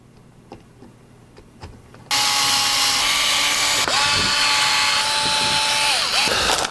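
A wheelie bar is fitted to a CEN Racing HL150 4x4 solid-axle RC monster truck. After soft handling clicks, a power driver whirs loudly and close for several seconds, dipping and rising in pitch as screws are driven.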